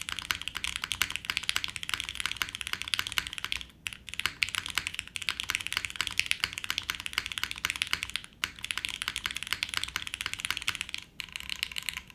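Steady fast typing on a Pixelspace Shadow80 mechanical keyboard fitted with alpha keycaps, dense clacky keystrokes running continuously with a few brief pauses, close and alone.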